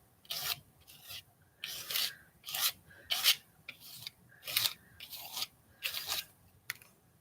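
Fiber-filled paste scraped repeatedly down a card, about ten rhythmic rasping strokes, close and crisp, with brief pauses between, and no talking.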